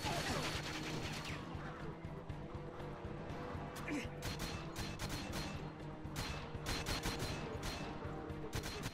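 Gunfire in GoldenEye 007 on the Wii, a steady stream of sharp repeated shots over a busy game background, moderately loud and continuous.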